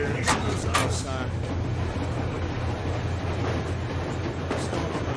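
A train rumbles steadily along the rails in the video game Metro Exodus, a constant low clattering drone with brief voices and sharp clanks near the start.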